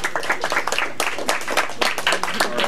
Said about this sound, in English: All right, Ray gets applause.